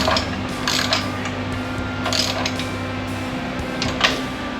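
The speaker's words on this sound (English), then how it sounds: "see if I can tighten these bolts up" A ratchet tightening motor mount bolts on a Dodge Dakota during a V-10 swap, close and clear, producing bursts of rapid clicking strokes in a few separate pulls over a steady background hum.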